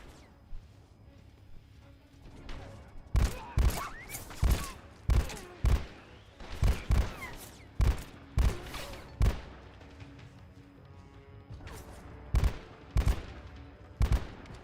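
Bursts of enemy gunfire in Metal Gear Solid Delta: Snake Eater, loud, sharp shots fired in quick clusters and short volleys across the stretch, with brief gaps between them over a low background rumble.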